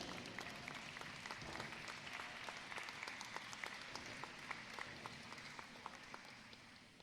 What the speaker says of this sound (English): give the Sigma Sigma Phi folks a really good hand of applause